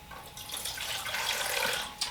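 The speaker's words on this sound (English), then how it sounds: "Put some water in that bowl" Water runs steadily from a tap into a bowl, a continuous soft splashing and trickling heard alone at low volume for a couple of seconds.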